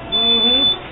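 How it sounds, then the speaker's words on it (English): A cart's short electronic reversing beep sounds once, a steady high tone lasting under a second, close by. "Look at that, it's even got a little beep."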